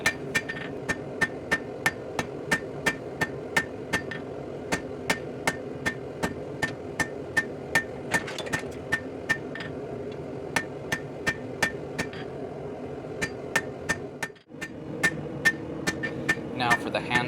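Steady, evenly spaced hammer blows ring out as rebar is forged square into a fire poker, sharp metallic strikes on the anvil repeating about twice a second over a low shop hum, with a brief pause near the end.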